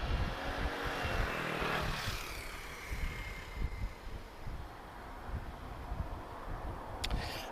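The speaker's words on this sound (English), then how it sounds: "This is an Embraer E190 long range. She's off to Barcelona." A TAP Express Embraer E190 long-range jet departs Lisbon Airport bound for Barcelona, its broad engine roar loud at first and then slowly fading into a distant rumble over wind noise.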